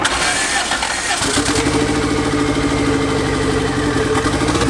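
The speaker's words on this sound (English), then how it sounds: "Still sounds rough. Yeah, it's still on 2 cylinders." A turbocharged LS engine with VTEC cranks over and catches, then idles roughly and unevenly while running on only two cylinders, a steady loud close rumble with a lumpy pulse.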